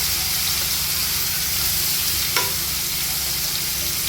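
Chicken pieces sizzle steadily in hot oil for a chicken gravy, with a loud continuous frying hiss throughout and one brief clink of a utensil partway through.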